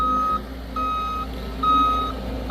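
A truck's reversing alarm beeps in three long, steady tones with short gaps, loud and close, over a low engine rumble on a job site where a walkway base is being built.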